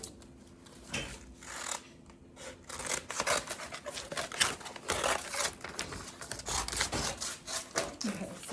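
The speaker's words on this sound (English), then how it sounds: "Let's cut out our chunk of script first." Scissors snip through an adhesive transfer script sheet in a run of short, crisp cuts close by, with faint talk in the background between cuts.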